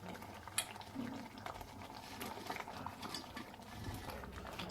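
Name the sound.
paneer masala with peas simmering in covered pot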